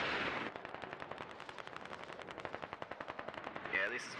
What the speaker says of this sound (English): this is a massive barrage